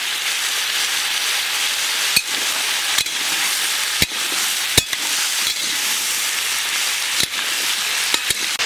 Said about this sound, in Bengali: লবণ, হলুদ, জিরে, সবজি মশলা, লঙ্কার গুঁড়ো দিয়ে একসঙ্গে ভালো মতন কষিয়ে নেব।